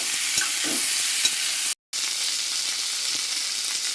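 Indian gooseberries (amla) poured into a hot pan for pickle, frying with a loud steady sizzle and scraping stirring sounds, close up with no talk.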